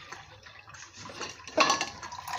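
Warm water is poured for chickens, making a short, close splashing trickle that grows louder midway through the brief pour.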